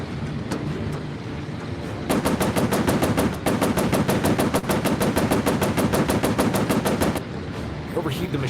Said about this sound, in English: Overheat the machine guns.